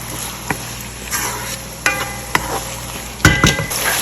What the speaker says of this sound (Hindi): अब प्याज़ों को हमने उस वक्त तक फ्राई करना है जब तक कि इनका कलर लाइट सा गोल्डन नहीं हो जाता